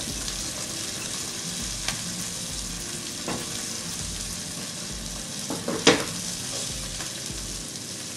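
Skate wing, seasoned with salt and pepper and turned golden brown, sizzles steadily in a frying pan, with a brief clatter of utensil or pan near the six-second mark over the constant frying hiss.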